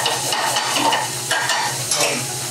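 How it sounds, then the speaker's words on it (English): Cabbage is tossed and sautéed in a pan after wine has cooked off, a loud steady sizzle with rhythmic scraping pulses from the stirring and a low hum beneath. "We're going to give a quick toss in the pan."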